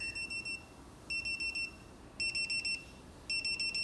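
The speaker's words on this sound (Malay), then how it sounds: "Dia macam alarm dia tu bunyi dia alarm yang klasik lah." A compact power bank's built-in clock sounding its classic alarm: four bursts of rapid, high electronic beeps, each a quick run of about five chirps separated by short pauses, fairly faint and alone.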